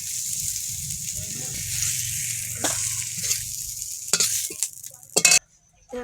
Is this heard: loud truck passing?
no